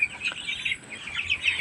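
Young chicks in a brooding coop chirp in quick, high, repeated peeps that overlap continuously at moderate volume, with no voices.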